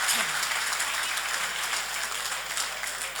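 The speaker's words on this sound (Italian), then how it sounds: "Un bel applauso anche per loro." Applause at a Sardinian football gala awards night for the Polisportiva Bonorva club, a broad wash of crowd clapping that stays steady and full throughout, with a faint voice briefly audible at the start.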